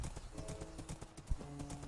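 Horse hooves clopping in a video game, a quick run of soft, evenly spaced steps at moderate distance, fairly faint and with no voices.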